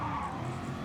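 A race car in Gran Turismo Sport skids and spins sideways, giving a short burst of tire scrub and engine noise, close and loud with no voices.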